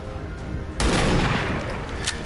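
A single loud shot in the turn-based strategy game XCOM, a missed shot, bursting abruptly out of low background noise and trailing off in a rough, sustained rumble.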